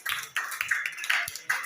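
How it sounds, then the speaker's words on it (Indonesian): A classroom of pupils applauds a group presentation, scattered light clapping with uneven taps and a few sharper claps, fairly soft and brief. "Iya, boleh diberi tepuk tangan dulu."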